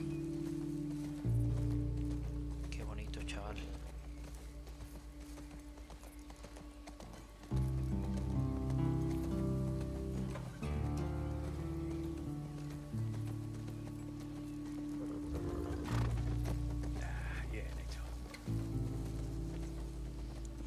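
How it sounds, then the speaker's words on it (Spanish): In The Last of Us Part II, a horse's hooves clip-clop steadily underneath loud, droning game music and ambience, the hoofbeats fairly soft and partly masked throughout. "Qué bien hecho está el caballo también"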